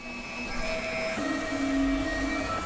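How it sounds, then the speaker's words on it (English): A FlashForge Creator Max 3D printer starting a print: steady mechanical whirring with sustained tonal motor hums that shift pitch partway through, close and moderately loud, no speech. "So I'll just click print, and there it goes. So the printer is starting."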